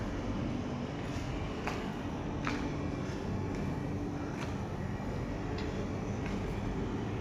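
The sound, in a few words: airliner cabin noise as the plane climbs after takeoff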